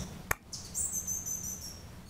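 A single bird gives a sharp click and then a thin, high, drawn-out whistled call that holds steady before fading. It sounds faint and somewhat distant against quiet outdoor background noise.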